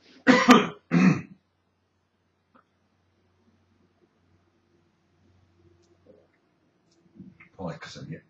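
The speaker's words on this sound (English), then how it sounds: "I need a cough." A person coughs and clears their throat twice in quick succession, close and loud, followed by a long near-silent stretch and another throaty clearing sound at the end.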